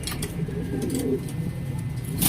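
A pigeon hen cooing close by in a loft, soft low throaty coos over faint background noise.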